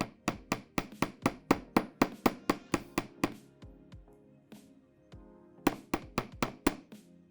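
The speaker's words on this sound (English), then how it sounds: "I'm gonna go ahead and hammer this, and then I'll kind of adjust the shape a little bit" A recycled wire jewelry clasp is hammered on a hard surface in a steady run of about fifteen sharp, close metallic strikes, then a short pause and another quick burst of blows.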